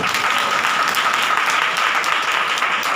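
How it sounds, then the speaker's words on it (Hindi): A church congregation claps loudly and steadily in a thick, even wash of applause that holds at full strength throughout, with no talk over it. "प्रभु को जोरदार ताली बजा के"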